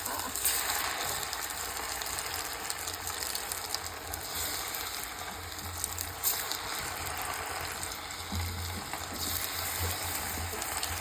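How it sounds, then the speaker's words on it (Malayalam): Chicken frying in oil over a wood-fired stove, a steady dense sizzle and crackle running for the whole stretch with low rumbling and occasional stirring knocks, close and fairly loud, with no talk. "നല്ല വിറകടുപ്പിലാണ് നമ്മൾ ചിക്കൻ പൊരിക്കുന്നത്"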